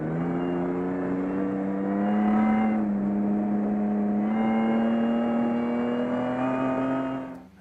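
Supercharged V6 Toyota Land Cruiser at a 4WD winch truck challenge stage, its engine held at a steady, loud rev that rises slightly and holds for several seconds before cutting off, close by with no talk.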